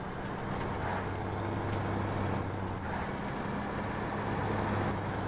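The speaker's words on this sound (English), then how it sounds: "So you can hear a bit of the meaty engine of the Tager" The Tager truck's engine in the video game SnowRunner, on a black ice road, a constant low meaty drone with steady hum, heard alone at moderate level.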